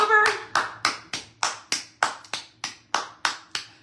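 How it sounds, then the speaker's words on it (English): Steady rhythmic hand clapping, about a dozen crisp claps at an even pace, close and loud, from a single clapper or small group, with a brief voice at the start. "Are we doing a round of applause?"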